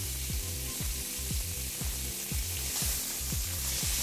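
Duck breast searing in a hot pan for duck à l'orange, a continuous loud sizzle running under repeated low rhythmic thumps.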